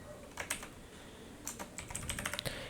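Two short bursts of keystrokes tap on a computer keyboard, quiet and close, separated by a brief pause.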